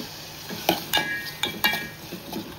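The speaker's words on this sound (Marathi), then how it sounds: "व्यवस्थित मिक्स करून आता शिजवून देऊ।" Close scraping and clinking of a utensil stirring a prawn and rice mixture in a cooking pot, several uneven strokes over a soft background sizzle.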